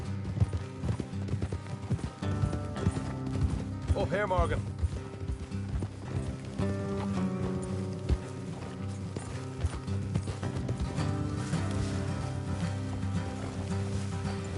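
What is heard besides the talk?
horses' hooves clip-clopping in video game Red Dead Redemption 2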